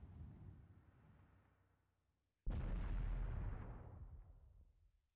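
A tank cannon shot from an IS-7 in a video game: a fading rumble first, then one sudden loud blast that rolls off slowly over a couple of seconds.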